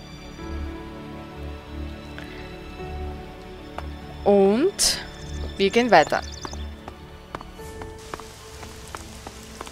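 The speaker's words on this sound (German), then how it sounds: "Und natürlich regnet es." Rain in the video game ELEX patters softly and steadily in the background, while someone talks over it and brief tonal game sound effects rise midway.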